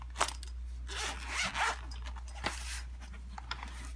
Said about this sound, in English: Let me see if I can get all of these zippers to open.